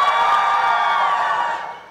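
A crowd at an indoor educational class event shouts and cheers loudly and sustained on cue for about a second and a half, then the noise drops away quickly.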